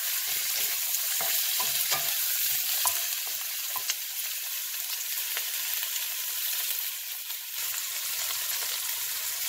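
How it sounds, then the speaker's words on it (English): Chicken browns in a hot pan with a strong, even sizzle and occasional scrapes and taps as it is stirred, the frying hiss carrying steadily throughout without speech. "We're going to brown it a little bit."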